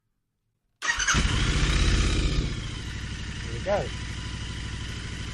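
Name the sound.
Royal Enfield Interceptor 650 motorcycle engine starting and running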